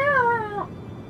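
A voice imitates a cat, giving a drawn-out, wavering meow that slides downward and fades out over about a second, heard close and alone while playing a video game.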